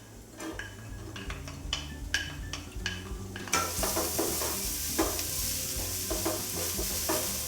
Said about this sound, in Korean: 팬에 우선 불 켜시고요. 식용유를 둘러주세요. 주어진 재료 중에 마늘하고 양파 남은 반절을 넣어주세요.